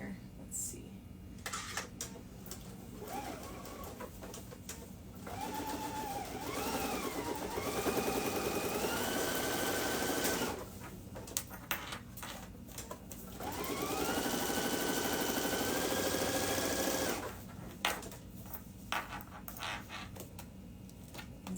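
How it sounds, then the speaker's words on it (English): Sewing machine stitching down the binding edge on a duffle bag, running in two long steady whirring bursts with pauses between, a person talking during the quiet gaps. "so I'm just gonna sew this down on the edge of the binding."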